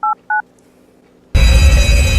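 A telephone is dialed: two short keypad tones sound close and clear, then a loud steady tone with a pulsing beep rises after a brief quiet pause.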